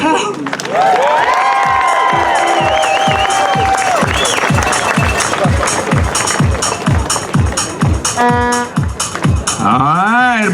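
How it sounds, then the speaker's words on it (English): A crowd at a high-school football state champions rally cheers and claps in a loud, rhythmic beat of repeated strokes, with shouting and whistle-like voices rising over the pounding, close and continuous. "a big round of applause"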